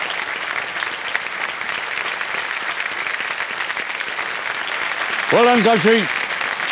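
Studio audience applause on the Kaun Banega Crorepati 14 set, steady clapping throughout the stretch, with the host's voice briefly speaking over it near the end.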